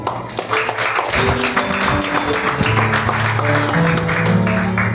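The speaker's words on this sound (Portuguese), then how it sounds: "Aplauda o nome do Senhor, igreja." A church congregation claps in a revival service while sustained keyboard or organ chords and music play loudly over it, the applause blending into a busy, continuous texture.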